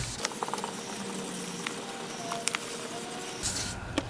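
Wet sanding of a plastic headlight lens with 1000-grit sandpaper and plenty of water: soft, rapid wet scrubbing strokes with small slick taps and squishes, fairly quiet and close.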